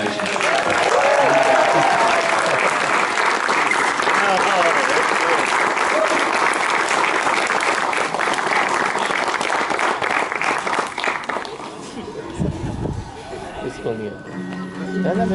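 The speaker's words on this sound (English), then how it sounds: "Let's get some clapping going as well." Loud, sustained applause from a wedding crowd just after the couple is pronounced husband and wife, steady clapping that thins out toward the end, with scattered voices and cheers mixed in.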